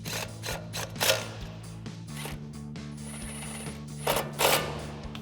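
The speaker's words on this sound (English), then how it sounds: "we'll grab our 10 mil swivel socket on our impact and tighten them all down" Impact wrench with a 10 mm swivel socket tightening screws on a front suspension leveling kit for a Silverado 1500, a steady mechanical whir with a ratcheting hammer rattle and a few louder bursts, close and alone.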